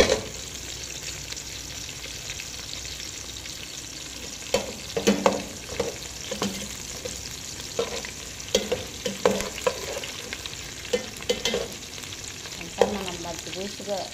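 Chicken biryani ingredients, including clove pieces, fry and get stirred in a pan: a steady sizzle runs throughout, with scraping spoon clatters and small knocks that rise in loudness toward the end.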